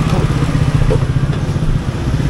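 A Yamaha RXZ motorcycle fitted with an underbody racing exhaust revs loudly and continuously on a road test, a close, dense, raspy two-stroke drone that fills the whole moment.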